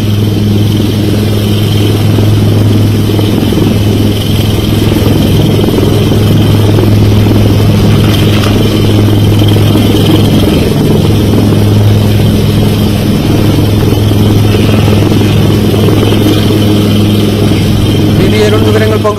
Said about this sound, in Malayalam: ഒരു ഹെലികോപ്റ്റർ കാണാം, അത് രക്ഷാദൗത്യത്തിന്റെ ഭാഗമാണ്